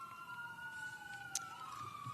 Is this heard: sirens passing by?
yes